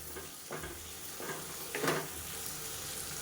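Chopped beetroot and tomato stir-fry in a pan with a low sizzle underneath and several distinct scraping stirs from a spoon against the pan.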